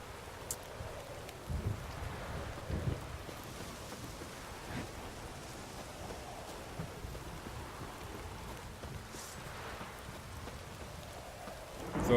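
Steady rain and a thunderstorm at night during a boat trip in The Witcher 3, heard as a soft, continuous wash of falling rain with a few slightly louder swells and no talking.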